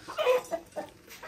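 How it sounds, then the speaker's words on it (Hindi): A rooster clucks up close, giving several short, throaty clucks in an uneven rhythm with no talking. "देखे ना माशाल्लाह मुर्गा कितना प्यारा है"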